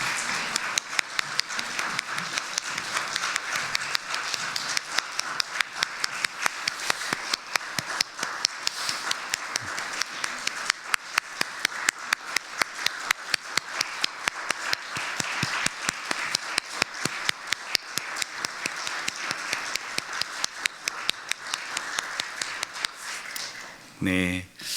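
Congregation applauding during a Korean church graduation worship service, sustained rhythmic clapping in unison from many people, fairly loud and continuous for over twenty seconds with voices mixed in, ending in a brief pause.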